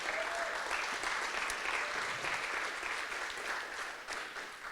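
A keynote audience at a disaster-service conference applauds steadily and evenly throughout, a dense wash of clapping at moderate distance that slowly thins toward the end.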